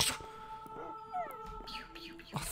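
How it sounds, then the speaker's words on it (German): A dog in the Minecraft video game whines and yelps in a few short rising and falling cries, fairly close, over faint in-game background sound with no talk. "Ach, war das der Hund?"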